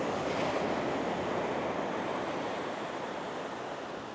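Seawater surges steadily through a small rocky coastal channel in Rincon, Puerto Rico, a continuous broad rushing wash with some wind on the microphone, slowly easing in volume.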